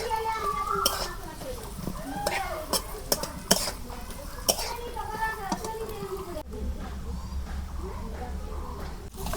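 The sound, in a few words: cutting onions into thick pieces with a knife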